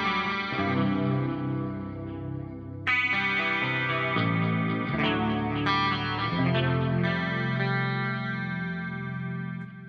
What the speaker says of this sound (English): here's this guitar through the clean channel of the amp